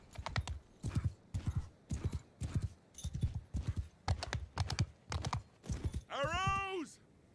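Cavalry hooves from the Mount & Blade 2: Bannerlord video game, a run of quick rhythmic clops in bursts, followed by a short horse whinny near the end.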